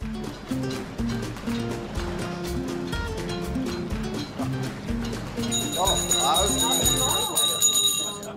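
People talk over engine noise aboard a lake boat, and near the end a boat bell rings with bright, sustained metallic tones that linger under the voices.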